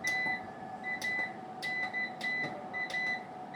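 A 1200W solar inverter sounds its overload alarm, a regular series of short high electronic beeps repeating about every half second over a steady hum.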